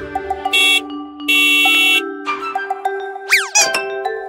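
Cartoon taxi horn honks in two long, loud blasts, set among bright chimes and playful boing-like sound effects in a children's vehicle song.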